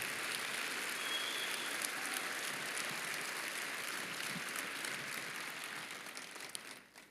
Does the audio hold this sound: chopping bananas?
no